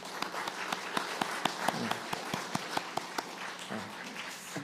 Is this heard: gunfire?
no